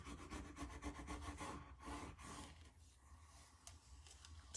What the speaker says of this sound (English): you're going to take this credit card, whatever, and rub it again, and that's what's going to adhere it to your board